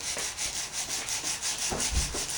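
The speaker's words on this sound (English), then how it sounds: "And then you got your little sanding block. And it makes it a whole lot easier." A sanding block rubs back and forth over a rifle magazine in a steady, rhythmic scraping, close and moderately loud, with no talking.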